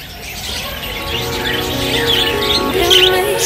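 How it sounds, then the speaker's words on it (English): Many birds chirp and tweet together at Ragunan Zoo, a dense mix of calls over a steady outdoor background that grows a little louder toward the end. "so many birds"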